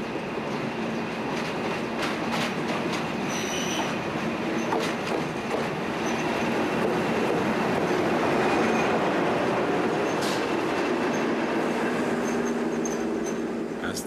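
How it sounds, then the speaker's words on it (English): A northbound interregional train pulls out of Faro station in Portugal with a loud, steady rumble and clickety-clack of wheels on rail, plus occasional high squeals, and no voices. "As this first morning northbound interregional leaves Faro"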